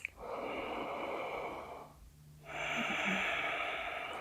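Slow, audible breathing during a held yoga pose, a long airy exhale that fades to a short pause before the next breath starts, close and steady.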